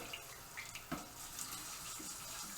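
Water running from a kitchen tap over a Kai Pro 5.5 inch prep knife and a cleaver, a faint steady splashing hiss with small clinks, no voices.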